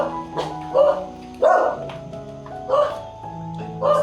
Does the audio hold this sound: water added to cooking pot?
no